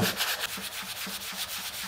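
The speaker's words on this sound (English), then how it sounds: "I'm going to now sand away the putty and the glue" Steady abrasive rubbing of sandpaper over dried wood putty and glue, a close, continuous scratchy hiss pulsing in quick regular strokes.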